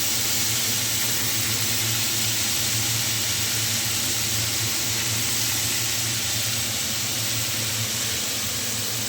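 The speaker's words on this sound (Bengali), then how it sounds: "এই খাসির মাংস চর্বিগুলো দেওয়ার সঙ্গে সঙ্গে আমি কিন্তু আবার নাড়তে শুরু করে দিলাম" Goat meat fat sizzling steadily in a hot pan while being stirred, a dense continuous hiss with no pauses throughout.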